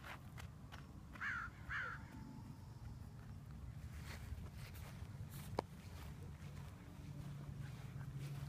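Crows calling outdoors, with two short harsh caws early on over a steady background of wind and low rumble.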